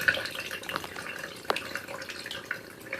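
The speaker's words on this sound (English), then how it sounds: "We're still siphoning." Python aquarium water changer siphoning fish tank water at a sink, a steady trickling, gurgling flow up close with occasional drips and splashes.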